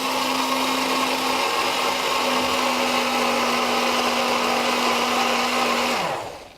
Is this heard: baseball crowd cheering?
no